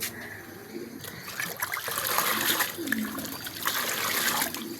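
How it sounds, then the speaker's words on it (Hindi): Water in a container being stirred and swished by hand to dissolve a live pigeon vaccine, with uneven splashing and trickling that rises and falls, close and fairly quiet. "तो आपने इस तरह पानी को अच्छे तरीके से मिक्स कर लेना"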